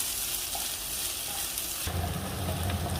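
Sliced large onions sauté in a pan, a loud, constant sizzle that jumps to a fuller, crackling fry partway through, with no voices over it.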